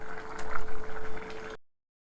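Egg tamarind stew (pulusu) bubbling in a pot, a soft, close bubbling simmer with gurgles that cuts off abruptly partway through.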